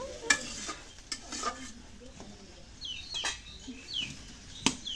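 Fish curry being stirred and sautéed in a pan, with soft scraping strokes and a light sizzle at low level, plus faint intermittent voices and birdsong in the background.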